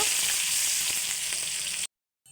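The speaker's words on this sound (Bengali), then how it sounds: "পেঁয়াজটাকে একটু ভালো করে ভেজে নেব" Chopped onion and slit green chillies fry in hot oil in a kadai, making a steady, dense sizzle close by that stops abruptly near the end.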